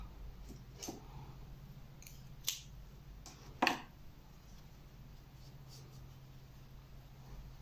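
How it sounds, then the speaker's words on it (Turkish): Scissors snipping yarn while crocheting a snowman keychain, a few quiet, crisp clicks spaced apart against a faint, steady hum. "bir zincir çekerek ipimi kesiyorum"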